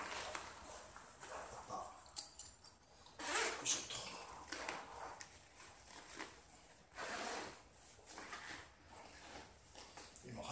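Zipper opening the main compartment of a Rothco MOLLE 3-day assault pack, quiet rasping pulls and handling rustles, close and intermittent, with one louder burst partway through.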